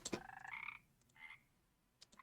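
Croaks from a cartoon frog in an itch.io frog game: a few short, tonal ribbits spaced apart, clear and close, with quiet gaps between them.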